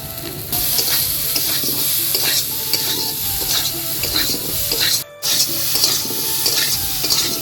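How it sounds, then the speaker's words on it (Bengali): Potatoes frying with salt and turmeric powder in a pan, a close, steady sizzle with frequent scraping stirs and utensil clatter, briefly cut off near the end, with no talking. "ভেজে নেব আলু লবণ হলুদ গুঁড়ো"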